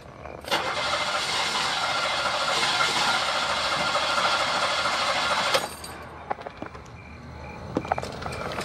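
A car starter grinds continuously for about five seconds without the engine catching, loud and close, then cuts out. A few scattered knocks and clicks follow.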